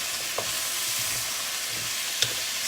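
Ingredients are stirred in a hot pan for chop suey, a steady close sizzle with a couple of faint scrapes and clinks of the utensil, no talking.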